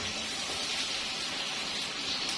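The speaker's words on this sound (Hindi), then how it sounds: "ये चिकन हमारा भून रहा है, इसको मैं 2-3 मिनट और भून लूंगी।" Chicken browning in a karahi gives off a dense, even hiss of frying oil, loud and close and unbroken for the whole moment.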